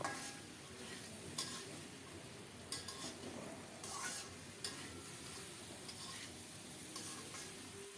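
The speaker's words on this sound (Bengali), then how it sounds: "আবারও নেড়ে ছেড়ে সব কিছু ভালোভাবে মিশিয়ে দেব" A spoon stirs and mixes a curry of bean seeds and rohu fish head in a cooking pot. Soft, quiet scraping and shuffling runs over a low sizzle, with occasional light clinks against the pot.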